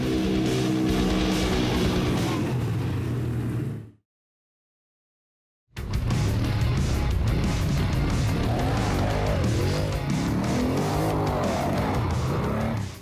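Polaris Sportsman XP 1000 and Can-Am Outlander 1000R 1000cc 4x4 ATVs drag racing on a 150-yard strip, loud roaring engines revving hard, broken by a brief silent gap before the racket resumes.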